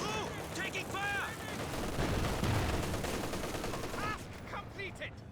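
Steady bursts of gunfire and heavy weapons crackle through a Company of Heroes 2 battle, a dense, continuous exchange of shots beneath in-game voice callouts.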